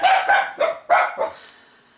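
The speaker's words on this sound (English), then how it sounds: "So the dogs are going to go crazy." Dogs bark indoors in a quick burst of about five loud, close barks with short gaps, ending in a fading yelp and then quiet.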